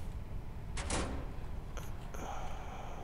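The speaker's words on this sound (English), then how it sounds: "Operate door control system" Sliding cell door in the prison-building game Prison Architect, operated from a door control system, opening with a short loud mechanical thump and slide over a steady low background hum, followed by two fainter clicks.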